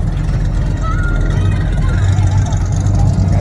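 A Plymouth Road Runner rolls past at a car cruise, its engine a steady low rumble that stays loud throughout, with outdoor crowd noise and voices mixed in.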